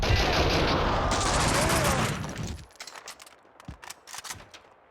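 Rapid bursts of gunfire in the video game Max Payne 2, a dense loud volley for about two seconds that breaks off into scattered shots and echoes, with a voice briefly heard.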